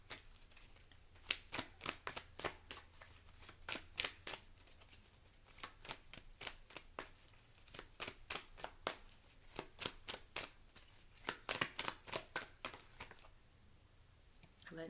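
Tarot cards shuffled by hand, with sharp riffling bursts that repeat in uneven runs and short pauses between them, close and clear. There is no talk over them.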